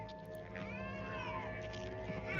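A cat in the 1985 horror film Re-Animator gives a drawn-out, wavering meow over a quiet background hum, rising and falling in pitch, clear and fairly close.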